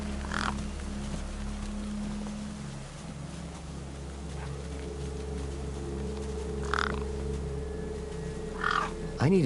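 Crows caw over a corpse in the video game Beyond a Steel Sky, a few scattered harsh calls at a moderate distance over a steady low mechanical hum and ambient drone.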